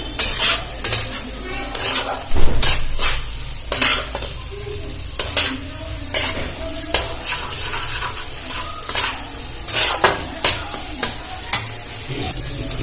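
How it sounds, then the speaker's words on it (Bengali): Eggs stir-fried in a pan for egg veg pasta, with loud rhythmic spatula scrapes and clacks against the metal over a continuous sizzle, close up and steady throughout. "এটা ভালো করে নাড়াচাড়া করে ভেজে নেব"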